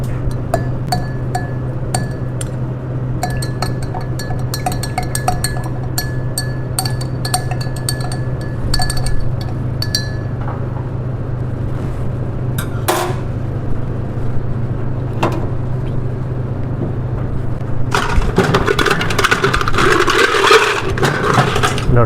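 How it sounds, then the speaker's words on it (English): Ice cubes clink and knock into a glass for a honey lemon lime drink, a rapid scatter of bright clinks early on, a few sparse clinks later, then a louder rattling burst near the end over a low steady hum. "Lots of ice."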